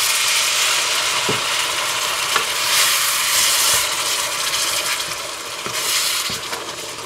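Hassar curry with eddoes, drumstick and okra simmers and sizzles steadily in a pot, with occasional scrapes and knocks of a spoon stirring through it, close and fairly loud with no talking.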